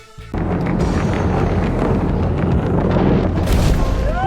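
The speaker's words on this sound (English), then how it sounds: "SpaceX successfully catches a rocket during its landing" A SpaceX rocket booster coming in to land and being caught, heard as a loud, sustained roaring rumble with deep low-end power that swells in abruptly after a brief quiet start and holds steady throughout.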